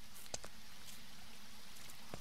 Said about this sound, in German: Anscheinend regnet es auch gerade draußen wieder.